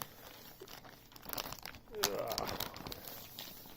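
Plastic packaging for a Maxton Design spoiler lip for a Fiesta ST180 is crinkled and ripped open up close, rustling building into a louder tearing burst midway, with faint speech in the background.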